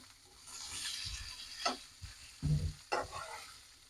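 Potatoes for homemade singara filling drop into a frying spice mix with garlic and are stirred in. The low sizzle comes with a few distinct scraping and thudding stirs, close and fairly quiet, with no talking.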